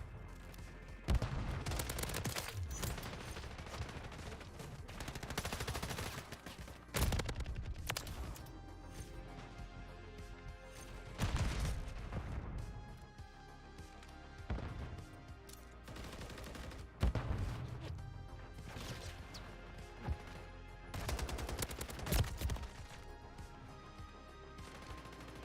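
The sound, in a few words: gunfire in Call of Duty video game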